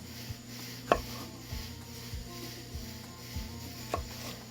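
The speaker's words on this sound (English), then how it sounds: "I think that's enough pepper. And we're just gonna cut those up." A knife chopping peppers on a cutting board, with quiet, evenly spaced chops and a couple of sharper knocks, close by and with no talking.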